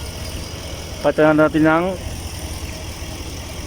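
A 2011 Chevrolet Express engine with a left-hand head cylinder misfire runs close and steady with a rough, uneven idle, briefly overlapped by someone speaking.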